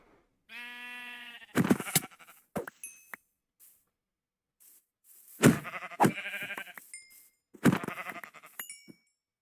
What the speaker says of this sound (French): Il y a des moutons là-haut.